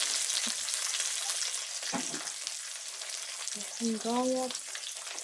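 Onions frying in a pan give a loud, steady sizzle throughout, with brief stirring knocks and a short spoken phrase near the end.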